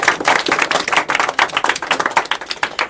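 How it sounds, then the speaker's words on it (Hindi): A classroom of students clapping loudly together, with a dense, rapid, even patter of close hand claps sustained throughout. "मारो ताली जोरदार।"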